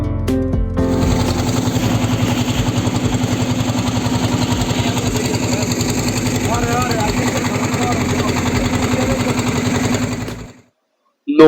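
A boat engine drones steadily during a river crossing to Sada Pathor in Sylhet, a loud, even chugging throb that holds for about ten seconds before cutting out abruptly.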